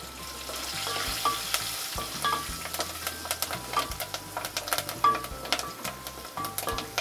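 Curry leaves and turmeric go into hot oil with a loud spluttering sizzle, and sharp crackles and pops keep breaking through the steady frying hiss at close range, with no voices.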